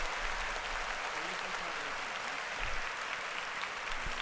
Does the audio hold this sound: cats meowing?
no